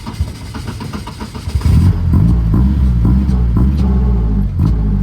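A car engine with a fuel pump that isn't keeping up is revved hard at close range, a loud rough rumbling roar that climbs and then holds steady, straining under full throttle.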